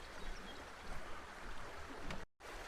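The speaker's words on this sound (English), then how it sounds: "certainly the gurgling of the water" Small alpine stream in the Cradle Mountain bush of Tasmania, water gurgling steadily and softly at close range, a continuous trickling wash that cuts out briefly near the end.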